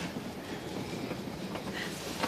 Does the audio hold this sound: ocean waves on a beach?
no